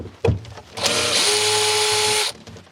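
A power drill backs screws out of the bottom of a Samsung refrigerator, giving one sustained high whirring burst of about a second and a half, close and loud, after a few brief clicks and knocks.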